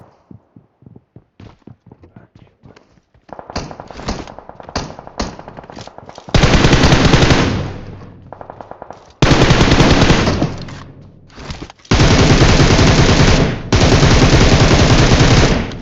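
Gunfire in the mobile shooter BGMI as bots are shot: a few scattered single shots, then loud, sustained bursts of automatic fire with brief gaps between them, close and dominant.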